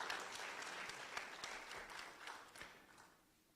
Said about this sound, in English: Can we give the President another round of applause?